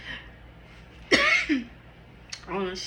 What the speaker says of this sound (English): my bad, had to cough.